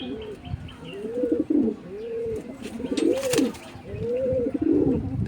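Domestic Andra and Malbai pigeons coo repeatedly in a rhythmic series of rising and falling calls, close and clear, with faint rustling between them.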